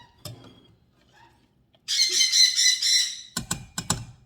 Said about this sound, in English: that's my bird. He's got a say in everything.